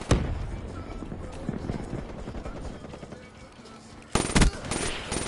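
Rapid automatic gunfire from an M8 rifle in a first-person shooter video game, with a dense run of shots early, a quieter stretch, then a sharp loud burst near the end.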